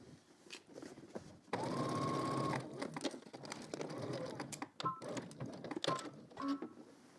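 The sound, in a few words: sewing machine stitching fabric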